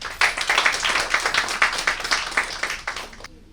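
An audience at a seminar applauds to welcome a speaker, a fairly close burst of hand clapping that swells, then thins out and stops.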